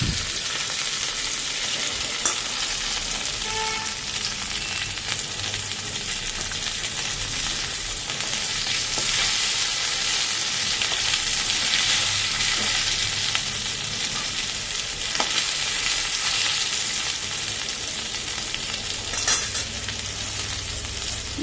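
Cumin seeds and bay leaf sizzle steadily in hot oil, tempering the base for a mukhi kochu taro curry; a close, continuous frying hiss with faint crackles and a few light clinks runs throughout, with no talking.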